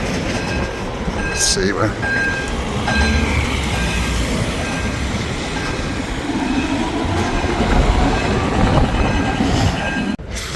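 Tram rolling along a city street in Gothenburg, a loud close rumble with wheel squeal and rail clatter lasting throughout, with a brief spoken remark early on.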